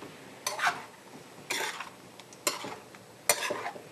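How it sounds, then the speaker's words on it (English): Cooked pasta with olive oil being stirred in a pan, four distinct scraping strokes about a second apart, close and fairly quiet, with soft sizzle between them and no talk. "And then I'm going to start to stir this around."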